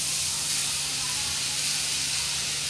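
Drumstick leaves hit a hot pan of fried onions with a loud, steady hiss and sizzle that runs unbroken for the whole stretch.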